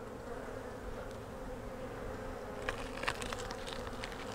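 Honey bees swarming over hive frames during an inspection, a dense steady buzz close by with a few louder passes of individual bees, no talk.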